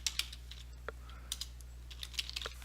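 Sparse keystrokes on a computer keyboard while code is typed, quiet and close, in short irregular clusters with pauses between, over a faint steady electrical hum.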